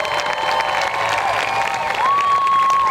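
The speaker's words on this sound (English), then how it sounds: "One round of applause, please." An audience claps and cheers at a state championship football celebration, a dense continuous patter of hands with whoops and shouts rising above it.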